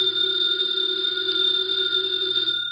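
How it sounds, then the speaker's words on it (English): A telephone rings as a radio drama sound effect: one continuous bright electric bell ring lasting nearly three seconds, close and alone. "The phone is ringing."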